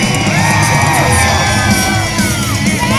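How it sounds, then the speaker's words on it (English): A loud, dense crowd at a BMX show at the Texas State Fair yells and whoops continuously, with mixed voices overlapping throughout and an occasional bang. "Come on now, I want to hear my crowd."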